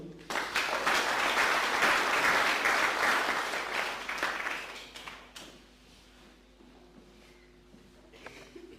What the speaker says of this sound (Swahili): wapige makofi vijana wetu